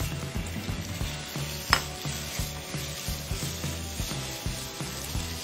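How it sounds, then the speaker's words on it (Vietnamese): Beef stir-fries in a pan with golden minced garlic, a steady close sizzle broken by rhythmic scraping and tossing strokes of a utensil, no talk. "Sau khi mà tỏi băm của chúng ta đã vàng đều rồi thì các bạn hãy tiếp tục cho thịt bò vào nhé."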